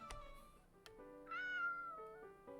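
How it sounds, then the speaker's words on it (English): A cat in a video game lets out a single drawn-out meow, clear and fairly close over soft tonal game music. "This must be the same cat that she was talking about in the present."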